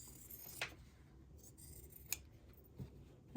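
Scissors snipping the top and bobbin threads while sewing a 5-inch quilt block, a few sharp isolated clicks spaced apart over a quiet background.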